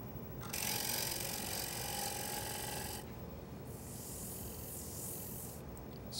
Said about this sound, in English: Just use the wing of the bowl gouge and draw it back across the piece.